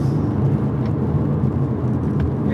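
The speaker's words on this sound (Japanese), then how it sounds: "さあ、もう一回アクセルを踏んでちょっと加速します。" Engine drone from inside a manual-gearbox Nissan Skyline V35 coupe as it accelerates: a loud, steady low rumble with road noise and no clear gaps.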